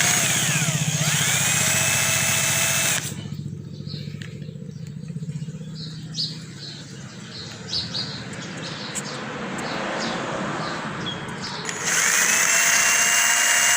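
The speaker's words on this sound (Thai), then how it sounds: "เราจะใช้สว่านเจาะรู เพื่อใส่ตะปูเกลียวตรงนี้นะครับ" A power drill bores screw-hook holes while a PVC clothes rack is built, with a loud whining burst that rises in pitch, a pause filled with birdsong, then a second close, steady drilling burst.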